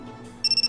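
An electronic telephone ringtone in a visual novel game cuts in over soft background music, sounding as a bright, steady run of rapid pulsing beeps.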